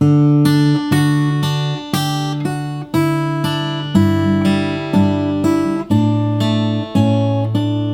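A fingerpicked acoustic guitar riff from a song repeats in steady phrases of ringing notes, each bass note sustaining under brighter picked strings, close and clear with no voices.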